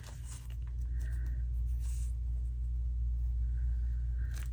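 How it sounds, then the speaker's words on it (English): Distant thunder from a Florida storm rolls as a low, continuous rumble heard from indoors, with faint rustling and small clicks of paper crafting close by. "A lot of thunder going on here right now"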